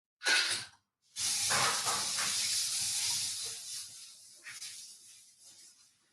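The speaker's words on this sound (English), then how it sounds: "I'm just going to give my hands a quick rinse." Hands rinsed under a running kitchen tap during a live cooking demonstration, a short splash followed by a steady broad hiss of water for about three seconds that fades into dribbles.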